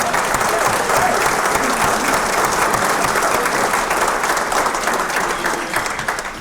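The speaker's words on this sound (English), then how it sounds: "If we could have a round of applause, ladies and gentlemen." Sustained, dense clapping from a dinner audience at an education hall of fame induction, steady for several seconds and tapering slightly at the end.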